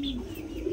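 A pigeon coos softly and close by, a low, brief, throaty murmur with no talking over it.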